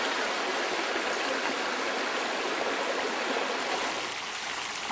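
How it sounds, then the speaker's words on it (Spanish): A river rushes over rapids and small waterfalls, a steady broadband roar of flowing water that stays loud and unbroken throughout, close by with no voices. "Se ven los saltos que viene el río."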